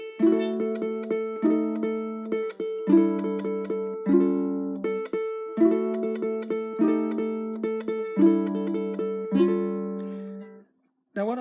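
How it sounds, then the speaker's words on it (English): A ukulele plays a chord melody: bright plucked chords repeat in a lively, even samba rhythm for about eleven seconds, close and moderately loud, then stop briefly before one last strum. "This is just a little samba built upon a single note."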